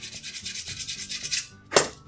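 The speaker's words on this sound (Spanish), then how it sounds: "Voy a lijar." Wood on a boat deck being sanded by hand, a steady run of rhythmic rubbing strokes close up, ending in one sharper scrape.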